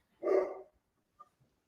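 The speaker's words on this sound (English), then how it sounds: "Sorry, my dogs are barking." A dog gives one single bark at moderate distance, followed by a faint brief yip and a soft low sound in an otherwise quiet room.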